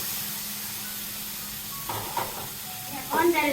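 Okra sautéing in a pan, heard as a steady sizzling hiss with a few stirring scrapes toward the end, close and fairly quiet.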